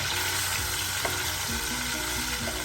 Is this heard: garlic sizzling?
yes